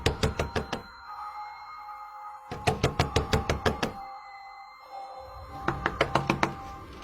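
Knuckles rap on a door in three quick bursts of about five to seven sharp knocks each, separated by short pauses and heard up close.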